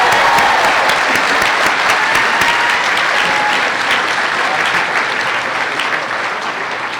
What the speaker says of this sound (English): let's give her some more applause.